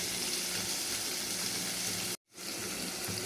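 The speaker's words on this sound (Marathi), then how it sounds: "आता टोमॅटो टाकते. छान मस्त त्याला लाल करते." Tomatoes fry in a pan with a dense, steady sizzle that fills the whole clip, broken by one very brief dropout before the sizzling carries on just as strongly.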